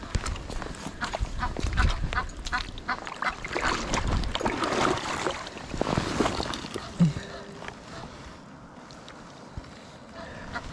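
Ducks quacking beside the Guadalupe River while fly fishing, several brief calls scattered through splashing and water movement, close by, with a soft wash of river noise behind.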